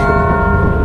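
The bell scrap item in the video game Lethal Company gives a loud, close, sustained ring with rich overtones, like a church bell, holding steady for under a second.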